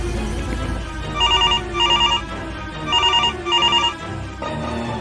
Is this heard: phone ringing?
yes